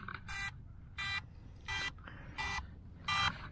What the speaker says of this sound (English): You can hear the beeping noise that it's making